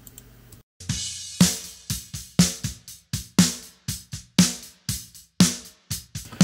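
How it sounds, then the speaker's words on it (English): Dry snare drum hits, then sent through a room reverb and a short plate reverb, strike steadily about twice a second, each crack trailing off in a short ringing tail, loud and close with no talking. "I took the snare and I sent it to the room reverb and the short plate reverb."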